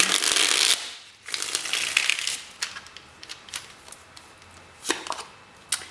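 Tarot cards being shuffled in quick riffling bursts, a long rustle at first, then shorter crisp flutters and taps, close and alone with no talking.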